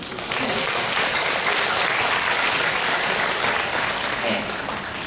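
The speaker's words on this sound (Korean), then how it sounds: "큰 박수 한번 쳐주세요." An audience claps loudly and steadily in a dense, sustained round of applause at a traditional Korean tightrope-walking performance, the 32nd regular show in Songpa, with scattered voices mixed into the clapping.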